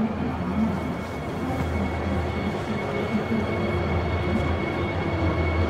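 Trains pass with a steady, dense rumble and rolling rail noise that holds at an even level throughout, with no voices over it.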